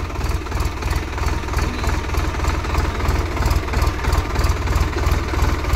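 A newly bought tractor, brought to a Ganesh temple for a blessing ceremony, idles with a steady throbbing diesel chug, a loud, even, rapid knock close by that runs on without a break.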